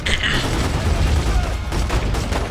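Submachine gun fire in The Godfather II video game, a dense rapid burst that runs through the whole moment under a steady booming backdrop.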